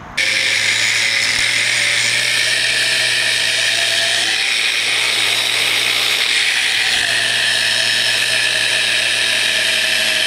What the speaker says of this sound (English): never hold a camera you care about close to an angle grinder